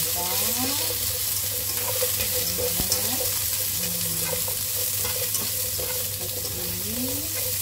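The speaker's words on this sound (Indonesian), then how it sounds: "Kita masukkan batang bawang, kita oseng sebentar" Spring onion stalks sizzle in a hot pan, a continuous loud frying hiss with light stirring scrapes and a few faint tonal squeaks over a low steady hum.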